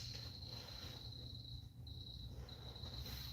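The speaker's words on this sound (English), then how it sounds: "Cricket is very loud." A loud cricket trills continuously and close by inside a cave where a table is being built, a steady shrill chirp over low background rumble.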